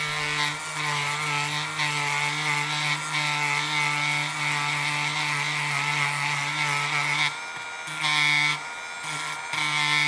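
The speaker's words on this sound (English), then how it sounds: "Then I'm going to use the Dremel to make the edge even." Dremel rotary tool evening the edge of leather for a coin purse, a loud steady high-pitched whine with a few brief dips and surges as the tool works the edge.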